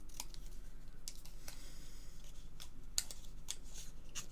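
Sharp scissors snipping through card stock in several quick, separate cuts, the blades clicking close and clear over a faint steady background hiss.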